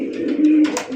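A pigeon, one of a pair of red Raj Golla pigeons kept for sale, gives a single close, loud throaty coo with a rolling, wavering tone lasting about a second, alone without talk.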